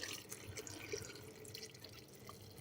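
Water is poured from a small vessel into a MioMat soup maker over vegetables and olive oil, a faint close trickling and dripping splash without speech.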